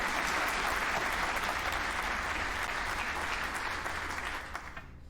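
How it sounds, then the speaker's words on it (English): A large crowd clapping and cheering in a game setting, a dense steady roar of applause that fades away near the end. "The sound of the crowd quickly dies away as you walk on down the dimly lit tunnel."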